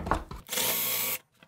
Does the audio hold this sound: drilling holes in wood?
yes